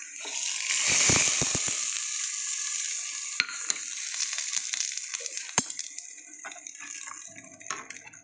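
Tempering sizzling in hot oil for a fish fry and dal: a loud hiss swells at the start then settles into a softer crackle, with a few sharp clinks and knocks scattered through.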